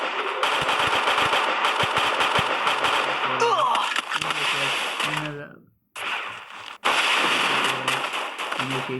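Video-game gunfire rattles in rapid bursts with sharp sniper shots, loud and dense, broken by a brief near-silent gap before the shooting resumes; no talking.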